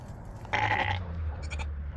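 A sheep on a snowy farm gives one clear, fairly close bleat lasting about half a second, followed by a fainter, shorter bleat over a low background rumble.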